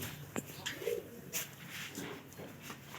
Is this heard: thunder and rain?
no